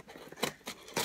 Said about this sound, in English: Careful with the scissors because I don't know what's in it.